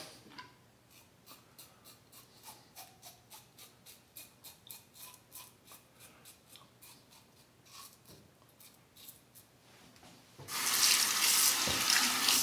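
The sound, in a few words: water running from tap while rinsing during shave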